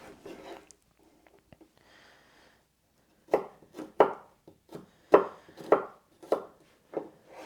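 A knife chops garlic cloves finely on a cutting board, a run of sharp, close, irregular knocks after a few quiet seconds of faint handling.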